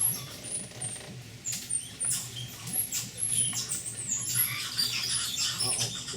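White-faced monkeys call with scattered high squeaks and chatter in a wetland at Palo Verde National Park, Costa Rica, heard from a boat over a steady low motor hum and rustling.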